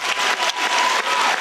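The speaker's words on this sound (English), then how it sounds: "Clap your hands, you know the word of God." Church congregation clapping their hands together in a dense, loud burst of applause, close and continuous, with no voices over it.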